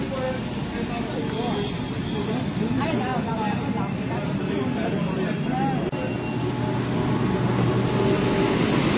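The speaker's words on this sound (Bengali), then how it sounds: "ট্রেন এসে গেল" A Kolkata Metro Green Line train pulls into the underground platform at Sealdah, a steady loud rumble filling the station with crowd chatter and voices all around.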